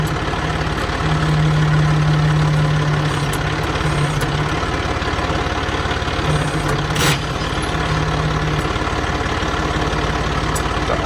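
A New Holland TD65 tractor engine idles nearby, a loud, steady, low rumble that holds on without a break, with a brief click partway through.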